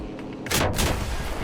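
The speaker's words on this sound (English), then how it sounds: "The AA gun actually just took us out." Heavy anti-aircraft gun fire in a World War II aircraft combat game, with a loud broadband blast that lands after a quiet lead-in and rumbles on through the rest of the short moment.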